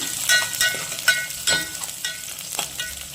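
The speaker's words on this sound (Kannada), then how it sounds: "ಎಣ್ಣೆ ಹಾಕ್ಕೊತಾ ಇದ್ದೀನಿ. ಸಾಸಿವೆ, ಸಿಡಿಗೆ, ಜೀರಿಗೆ, ಈರುಳ್ಳಿ, ಕರ್ಬೇವಿನ ಸೊಪ್ಪು ಹಾಕ್ಕೊಳ್ಳೋಣ." Mustard seeds, cumin, onion and curry leaves sizzle in hot tempering oil for radish sambar, with close crackles and small pops scattered irregularly over a steady frying hiss.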